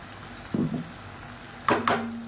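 Blended tomatoes are stirred into sautéed onion and garlic in a pan for a Tamil fish curry, giving two brief soft sizzling, stirring bursts close by over a quiet background.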